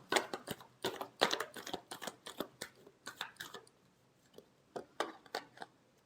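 Tarot cards riffled and shuffled in quick, crisp bursts of flicks and taps, close and moderately loud, with a short pause before a final flurry of shuffles.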